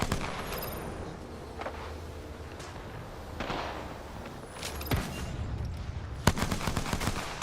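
Gunfire crackles through an Apex Legends grand finals match at a car park, dense overlapping bursts and sharp single cracks at mid distance, with a louder shot cluster near the end.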